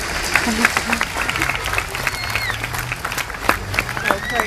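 Scattered audience clapping during a farewell speech, honoring the speaker's little sister seated in the crowd, moderately loud with people talking and murmuring underneath.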